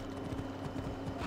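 Horse hooves trot in Assassin's Creed Odyssey in a quick, even clip-clop rhythm at moderate distance, with steady background hum.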